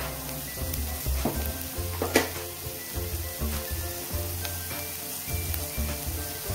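Onions sauté in a pan for a potato and peas bhaji, crackling with a steady broadband sizzle, punctuated by a few sharper clatters and low thumps of stirring, close and continuous with no talk.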